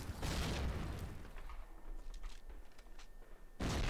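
Grenade blasts in the Call of Duty video game: a loud booming burst opens, a rumbling tail fades with scattered crackles, then another heavy blast hits at the end.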